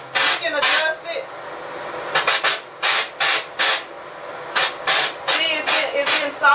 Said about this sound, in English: with the spray nozzle, you can adjust it, like how it's kind of sharp right there